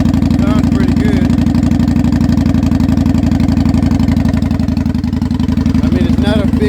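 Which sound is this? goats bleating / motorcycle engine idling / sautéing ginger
motorcycle engine idling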